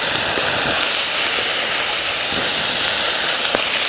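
Ragi dosa batter sizzles on a hot pan in a steady, loud broadband hiss, with a few faint scrapes and taps over the top.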